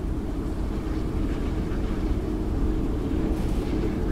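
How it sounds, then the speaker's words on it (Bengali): A steady, loud, low rumble runs on without a break as a train moves along in the horror video game Choo Choo Charles. There is no talking. "আই থিঙ্ক ওখানে আমাদের ট্রেন নিয়েই যাইতে হবে।"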